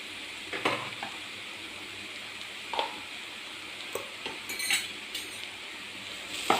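Stirring a sticky date sweet with cardamom powder in a pan, a utensil scraping and clinking against the metal in several short, close strokes with brief pauses between them.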